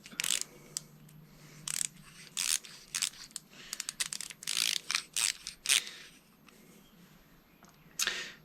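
Parts are being screwed onto the brake of a Xiaomi M365 electric scooter, producing faint, close clicks, ratcheting ticks and scraping taps in irregular bursts against a quiet background.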